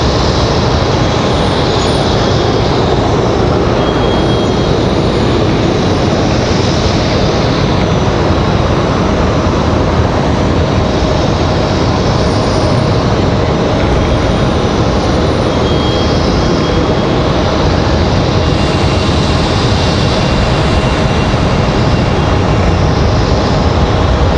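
A jet airliner arriving from Nashville at Raleigh-Durham airport gives a loud, steady, broadband engine roar that holds throughout without any pauses or talk.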